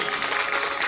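Audience applause after an MC calls for a big hand for a leader at a lab inauguration event, steady dense clapping filling the whole moment with no voices on top.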